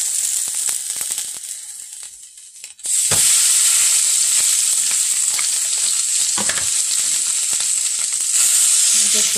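Sausage for gravy fries loudly in a hot pan, a steady bright sizzle that swells after a brief quieter start, with occasional scrapes and knocks as the meat is broken up.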